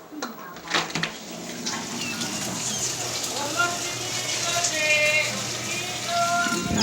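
Rain falls steadily outside, a constant patter on surfaces heard from nearby, while someone talks over it throughout.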